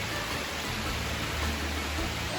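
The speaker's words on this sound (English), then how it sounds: "it was thundering this whole time and just a little rain, and now it's really pouring down" Heavy rain pours down steadily around the cliffside monasteries of Meteora in a thunderstorm, a dense, even hiss with no voices over it.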